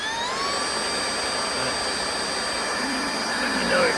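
A vanlife vacuum cleaner runs steadily and loudly throughout, with a constant high motor whine and a rising pitch at the start, alone with no talk over it.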